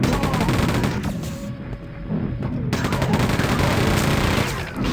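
A new gun fired in Quake 2 RTX, heavy rapid bursts of loud shots over steady game noise, briefly stopping in the middle before firing resumes.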